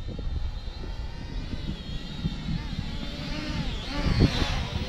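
A D80WG foldable toy drone flies into the wind outdoors with a thin, high-pitched propeller whine over heavy wind rumble, the pitch swooping noticeably near the end.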